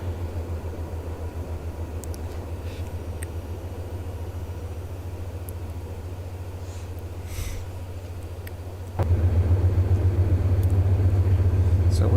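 A diesel locomotive rumbles steadily at full throttle in the Open Rails train simulator, a low throbbing drone that grows noticeably louder and more pulsing about three-quarters of the way through.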